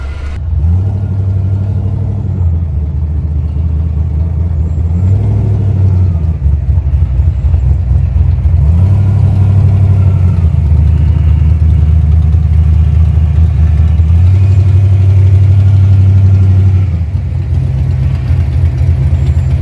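A turbocharged 331 stroker V8 in a Foxbody Ford Mustang revs loudly up close. Its deep, steady idle rumble is lifted by several throttle blips that rise and fall at regular intervals.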